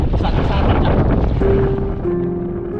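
Strong wind roars steadily over open sea in the middle of the ocean, loud and close with a buffeting, rushing hiss, joined by a faint sustained tone near the end.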